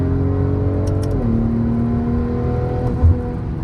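A tuned BMW M340i xDrive with a custom XHP tune revs as it downshifts, a steady engine hum that climbs briefly, settles into a lower drone, and ends with a short bark.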